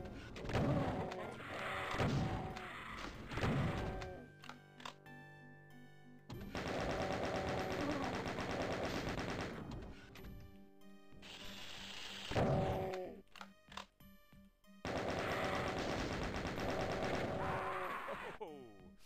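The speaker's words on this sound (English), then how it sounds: "Chain gunner." Chaingunner enemies in Doom 2 fire their chainguns in long, loud rapid bursts of gunfire separated by short gaps, with game sound effects and music around them.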